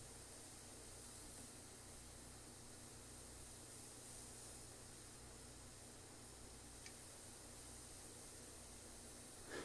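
An airbrush sprays paint in a steady, soft hiss that runs unbroken from start to finish, quiet and close with no talk over it.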